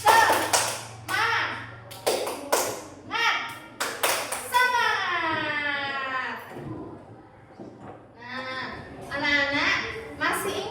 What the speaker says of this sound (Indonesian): Kita tepuk semangat ya. Tepuk semangat.